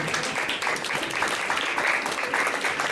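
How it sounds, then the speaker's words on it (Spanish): Church congregation applauding steadily throughout, a dense, even wash of many hands clapping at moderate loudness with no speech over it. "Usted puede dar un fuerte aplauso al Señor."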